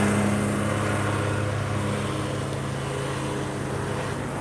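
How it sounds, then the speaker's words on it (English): A lawn mower cutting grass nearby, its engine droning loudly and steadily throughout with no pauses. "They're out here mowing the lawn."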